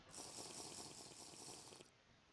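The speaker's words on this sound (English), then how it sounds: "Let's drink some water." Drinking water in the video game Roomscape 2 makes a short, faint liquid gush and trickle that runs for about two seconds and then cuts off abruptly, heard alone.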